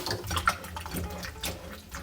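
Tap water runs while salted cucumbers are rinsed, making a faint, uneven splashing and trickling with small irregular spatters close by.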